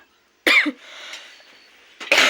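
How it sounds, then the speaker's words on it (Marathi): Two loud, sharp coughs from one person, close to the microphone, separated by about a second and a half of quiet breathy throat noise. "बोललं की खोकला लागतोय, बोललं की खोकला लागतोय"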